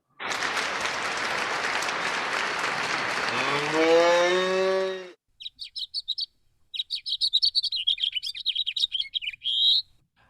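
Broadband noise like applause or a rushing sweep fades out, then a bright, rapid twittering bird song follows in quick, jumbled phrases, fairly close and clear.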